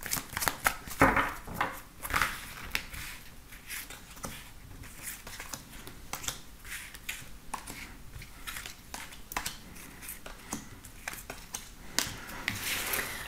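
Tarot cards are shuffled by hand before a draw, giving a continuous riffling, flicking patter with uneven slaps and brief louder bursts, close up and without talk.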